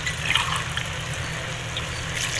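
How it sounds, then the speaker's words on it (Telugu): Water pours into a pot of country chicken curry as a steady trickling, splashing stream, fairly close and continuous with a faint gurgle. "1, 2, 3 గ్లాసులు పోసాను"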